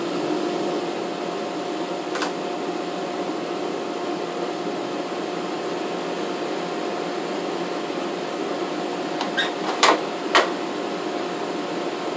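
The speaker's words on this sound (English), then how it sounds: "So we'll turn on the air conditioner." A room air conditioner hums steadily in a woodworking shop, a constant even drone running the whole time with a few brief clicks and knocks near the end, no talking over it.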